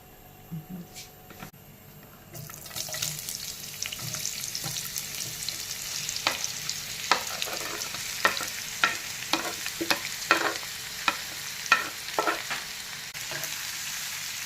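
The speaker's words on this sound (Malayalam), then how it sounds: "സവാള വാട്ടാം" Sliced onions sauté in coconut oil in a pan over low heat, sizzling steadily with repeated sharp crackles and stirring scrapes, close and fairly loud.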